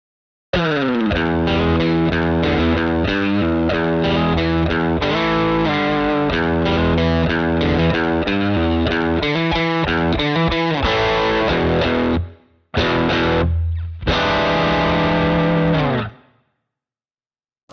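A Gibson Les Paul Faded Series electric guitar played through heavy distortion, with loud sustained chords and riffs running continuously, a brief break near the end, then a final ringing chord that cuts off.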